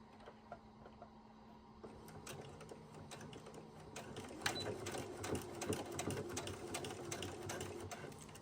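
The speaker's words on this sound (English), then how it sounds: "It is an electronic sewing machine." An electronic sewing machine sews a seam on wide leg pants, starting quietly and then speeding into a rapid, steady ticking hum, close and clear.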